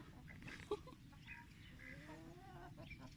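Chickens cluck softly at a distance, a few short calls scattered over a steady outdoor background with no talking.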